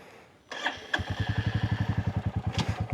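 A Royal Enfield-style Classic 350 motorcycle starts up: a brief crank and catch, then the single-cylinder engine settles into a steady, loud thumping idle close by, with no speech.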